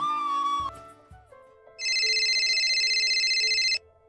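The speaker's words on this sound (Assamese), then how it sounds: "প্ৰথমবাৰৰ বাবে ফোন কৰিছে" A mobile phone plays a loud electronic ringtone for an incoming call. A bright, repeating tone pattern rings steadily for about two seconds and then stops, and no one speaks over it.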